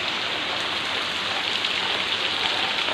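Rain falling steadily in a village, a dense, even hiss of drops hitting the ground and nearby surfaces, moderately loud and unbroken, with no voices.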